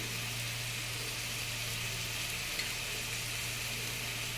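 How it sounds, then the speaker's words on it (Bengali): Potato and pointed gourd peels stirred and frying with salt and sugar, a faint, steady hiss with a low hum underneath and a tiny clink partway through, no talking. "এবার অল্প নাড়াচাড়া করে নিচ্ছি কিছুক্ষণ এটিকে ভাজতে"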